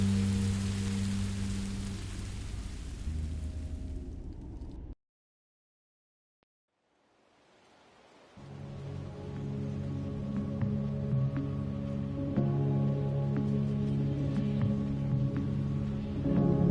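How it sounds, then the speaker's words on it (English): Steady rain falls outdoors in a broad, even hiss, cutting out to near silence for a few seconds before resuming with a low rumble beneath it. "I didn't know it would rain."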